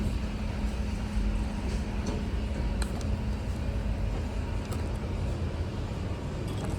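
Dover Impulse hydraulic elevator riding inside its cab at the Offshore Technology Research Center, Texas A&M, College Station: a steady low mechanical hum and rumble continues throughout with occasional faint clicks, no voices.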